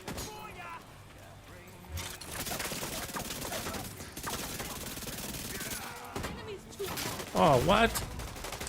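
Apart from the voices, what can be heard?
shotgun gunfire in the video game The Division 2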